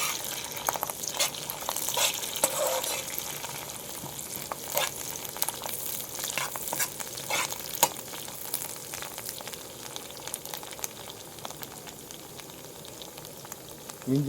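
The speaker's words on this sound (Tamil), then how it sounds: "இதை நல்லா பொன்னிறம் ஆகிற வரைக்கும் நல்லா வதக்கிக்கலாம்" Masala with curry leaves sizzles and fries in a pan as it is sautéed until golden brown, giving a steady crackle broken by scraping stirs and sharp spatters, close by with no talk.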